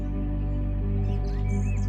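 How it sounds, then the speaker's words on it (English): Several birds chirp and call in a dawn chorus over a steady low hum, the tweets light and fairly faint at a distance, with no one speaking. "I can hear various different birds singing, especially things like the dawn chorus"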